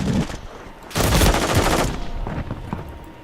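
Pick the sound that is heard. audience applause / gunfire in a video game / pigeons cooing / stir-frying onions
gunfire in a video game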